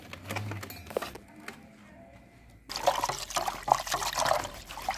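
Homemade desi buttermilk pours and trickles after butter churning in a village, a soft liquid dribble followed by a louder, steadier splashing stream up close.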